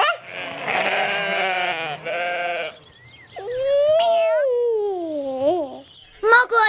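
Cartoon sheep bleat in a long, wavering, pitch-bending call, loud and close, after a stretch of lively voices and before a brief final burst of sound.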